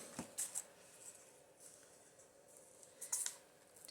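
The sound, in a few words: cutting off bottom of junk journal paper page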